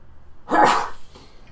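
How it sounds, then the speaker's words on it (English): A woman lets out one short, sharp sneeze, a loud burst lasting under half a second with a faint trailing breath afterward and quiet on either side. "You sneeze like a grown man."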